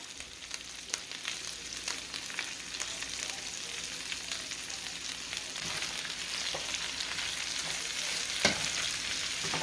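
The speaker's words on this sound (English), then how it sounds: "We'll just give it a polite little stir here." Cabbage seasoned with salt and black pepper sizzles in a pan while it gets a gentle stir, a continuous close hiss of frying with faint scraping, no voices.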